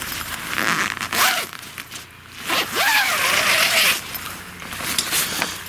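Several drawn-out pulls on the zippers of an OzTrail stretcher tent, close and fairly loud, with short pauses between the rasping strokes.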